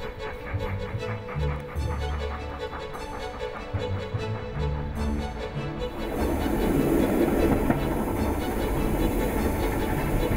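A train rumbles along with rhythmic wheel clatter, growing louder and rougher partway through as it passes closer, heading west in Scotland or Wales.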